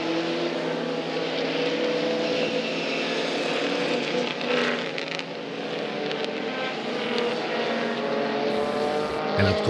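Race cars lap the circuit during a WA Sporting Car Club Time Challenge session at CARCO.com.au Raceway, their engines a loud, continuous, overlapping roar that swells and fades as cars pass, with faint speech underneath.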